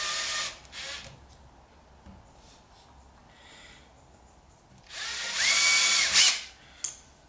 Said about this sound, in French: L'important c'est de bien percer et de bien fraiser de façon à ce que ça ne fende pas.